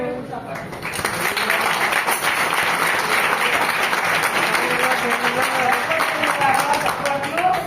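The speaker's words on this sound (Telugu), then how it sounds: "సర్వజనులారా చప్పట్లు కొట్టుడి." A church congregation claps during a third anniversary service. The applause is dense and sustained, rising after a moment and holding steady, with voices mixed in.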